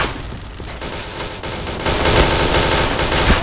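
Gunfire from the first-person shooter Point Blank comes in rapid bursts of loud, close automatic fire, growing denser and heavier partway through, with no talk over it.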